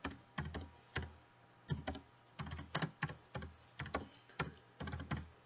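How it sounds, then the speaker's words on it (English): Soft typing on a computer keyboard as a search is entered, a quiet, uneven run of key clicks in short bursts with brief gaps between words. "So let's type funny basketball notebook."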